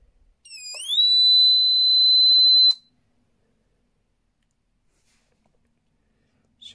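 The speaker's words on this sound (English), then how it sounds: "So now you can see alarm's activated." An ESP MAGfire FLK4P four-zone conventional fire alarm sounds one loud, close, piercing electronic tone that holds steady for about two seconds and then cuts off, leaving silence.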